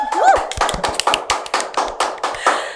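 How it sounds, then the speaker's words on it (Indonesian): A few people in a podcast studio clap hands, a sparse series of about a dozen distinct, close, sharp claps at an uneven rhythm, with a brief voice at the start. "Boleh tepuk tangan dulu."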